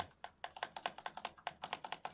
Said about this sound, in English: This is a non-modified key.